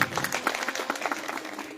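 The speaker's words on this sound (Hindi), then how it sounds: "इसके लिए मैं चाहूंगा कि चीफ साहब के लिए जोरदार तालियां होनी" Applause breaks out for a department chief at a farmers' program in a hilly area, a burst of scattered hand clapping from a crowd that holds steady for a couple of seconds.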